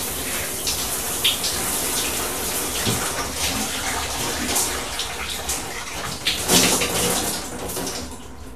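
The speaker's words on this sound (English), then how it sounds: "Maybe I should go take a shower." Shower water runs steadily as a constant broadband spray hiss, close and continuous, with a few small splashes and knocks over it and no talking.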